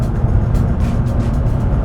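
A Nissan GT-R at about 220 km/h gives a loud, continuous roar of engine and road noise, heard from inside the car with no talking.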